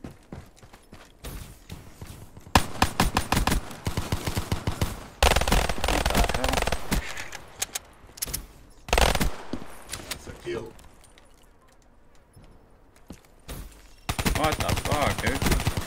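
Black Ops 3 multiplayer gunfire comes in repeated bursts of rapid automatic shots, loud and close, with pauses between the volleys and a player's voice talking over parts of it.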